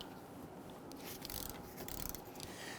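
Faint quick ratcheting clicks from a wrench loosening 15mm brake caliper bolts on a Dodge Charger, a short rapid run of mechanical ticks over a soft background hiss.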